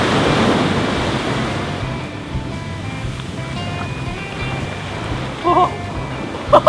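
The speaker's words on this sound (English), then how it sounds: "Get ready for a wave and I'll scoop up some water." Ocean waves break and wash steadily onto a beach, a broad continuous roar of surf with wind buffeting the microphone, while a few brief sharp squeaks and splashes of nearby play cut in near the end.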